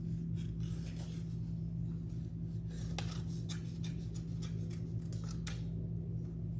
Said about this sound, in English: I'm going to cut out a square from my black construction paper